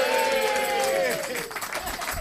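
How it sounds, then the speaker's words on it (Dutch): A carnival show audience gives a scattered, hesitant round of clapping under a sustained tonal sound and crowd murmur, with the claps growing a little more noticeable toward the end. "Een aarzelend applaus,"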